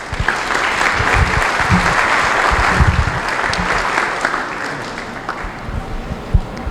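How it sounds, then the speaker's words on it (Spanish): An audience at an evening talk at a school applauds to welcome a speaker, a loud, dense wash of clapping that swells and then slowly thins out toward the end. "Lo recibimos con un aplauso"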